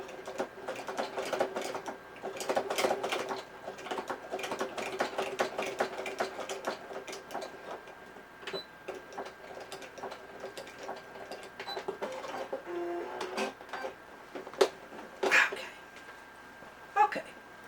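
A sewing machine stitches a purse in bursts of rapid mechanical chattering, pausing and restarting, with sharp clicks and knocks between runs, close by.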